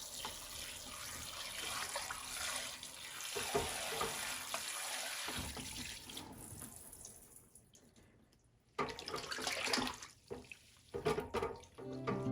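Tap water runs into a sink as a yarn skein is rinsed, a steady hissing flow with splashing and dripping that stops briefly, then resumes in bursts, close and fairly quiet.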